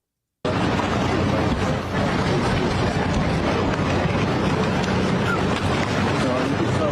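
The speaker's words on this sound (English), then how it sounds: "There goes a boat by, a patrol boat." A patrol boat passing along a river, heard as a steady, continuous broadband rumble and wash that holds throughout, with wind buffeting the microphone.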